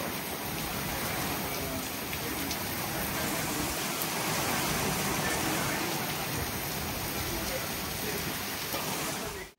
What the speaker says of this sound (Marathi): आणि आता एक छान मुसळधार पाऊस पडलेला आहे